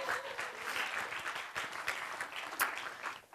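An audience at a climate justice talk applauds, a dense, sustained wash of clapping that stays fairly even before tapering off at the end.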